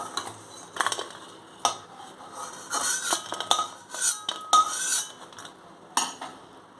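Metal utensils clink against a frying pan in a kitchen as fried lentil fritters are lifted out, a string of sharp, irregular scrapes and taps close by with no talking.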